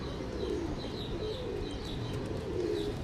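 A pigeon being shown in a bird deal coos softly and repeatedly nearby, low rolling calls over a steady room background with faint chirps.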